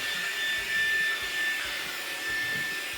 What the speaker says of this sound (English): Let's vacuum it out and get it ready to put everything back in.